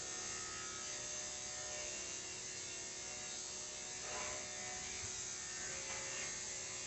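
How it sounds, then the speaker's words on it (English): Electric clippers shave a matted dog during a full-service grooming session, giving a steady, close mechanical buzz that runs alone throughout with slight shifts as the blade moves through the coat. "just push into the inside of it, and it makes it where you can shave that zone."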